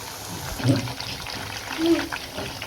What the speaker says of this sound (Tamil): ஸ்டவ்வை நல்லா மீடியம் ஃப்ளேமில் வச்சு நல்லா மறுமுறுன்னு பொறிச்சு எடுத்துக்கலாம்